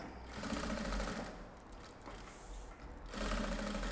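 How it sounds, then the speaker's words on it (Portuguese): A sewing machine runs a seam along a marked line in short bursts, a fast, close, mechanical whirring that pauses briefly midway and then resumes. "enquanto eu passo a costura"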